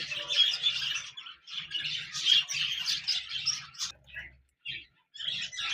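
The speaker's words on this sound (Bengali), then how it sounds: "এখানে দেখতে পাচ্ছেন এক জোড়া জাপানিজ বাজরিগার রয়েছে" A pair of Japanese budgerigars, a lutino male and a female, chirp and twitter continuously at close range in bright, rapid bursts, pausing briefly near the end before resuming.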